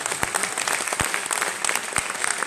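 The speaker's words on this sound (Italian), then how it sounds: "Grande applauso." Audience applause at a festival talk on citizenship and welcoming migrants, a steady dense clapping that fills the whole stretch with a few sharper near claps standing out.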